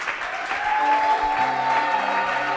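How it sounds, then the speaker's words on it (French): Inside a church, a congregation claps together in a steady burst of applause that holds at an even level, with a faint sustained tone under it. "Est-ce que nous pouvons acclamer pour le Seigneur Jésus?"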